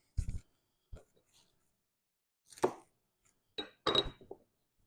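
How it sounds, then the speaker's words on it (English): A knife cuts asparagus on a board before it goes into a skillet for smoked asparagus, giving several sharp, close chops spread out with quiet gaps between them. "I'm just going to cut down this asparagus"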